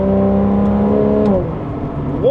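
Porsche engine shifting into third gear, a steady close drone that dips briefly at the change and then begins rising again as the car pulls.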